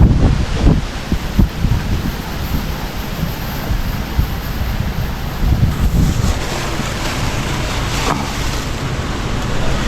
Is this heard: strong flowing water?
yes